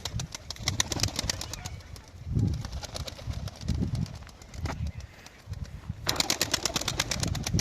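Young pigeon chicks leaving the coop, with soft cooing and fluttering wingbeats in repeated low bursts, close by, alongside rapid tapping and rustling movement in the enclosure.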